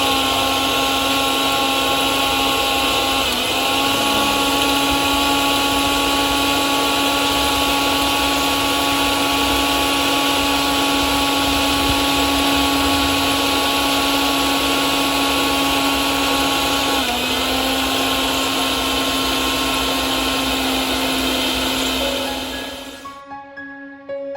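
A kitchen mixer grinder blending chutney outdoors at a farm, a loud steady motor whine running continuously with two brief dips in pitch, then cutting off abruptly near the end.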